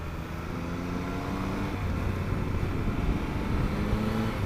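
A Triumph Tiger 1200 Alpine Special Edition motorcycle rides along with a steady engine drone and rushing wind noise, its note shifting slightly as the throttle changes.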